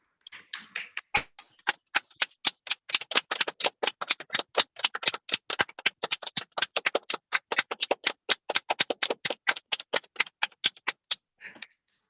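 Steady applause from an indoor audience at a book launch for a corneal infection and inflammation colour atlas, dense hand claps running for about ten seconds before tapering off, with no music.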